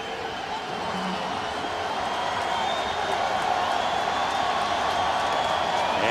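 Football stadium crowd at an NFL game, Miami Dolphins at Tennessee Titans, roaring steadily and loudly throughout as the home fans cheer to spur on the defense.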